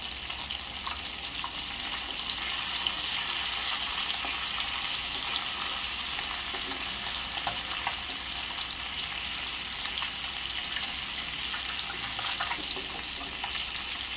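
Bangda mackerel pieces fry in hot oil in a pan as they are turned over, a loud continuous bright sizzle with faint scraping under it and no talk.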